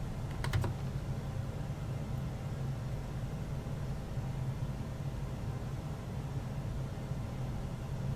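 Password keystrokes tapped on a computer keyboard while installing Google Chrome on AlmaLinux, a few quick clicks near the start followed by steady background hum, close and fairly quiet.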